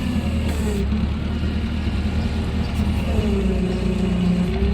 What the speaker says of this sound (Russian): Основной наклон работает.